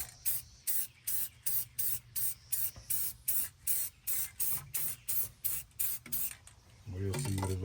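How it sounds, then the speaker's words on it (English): An air hose blows debris off a part being rebuilt in a series of short, sharp bursts of hissing air in a steady rhythm, close and loud, ending with a few muffled thumps. "I used the air hose to spray it off"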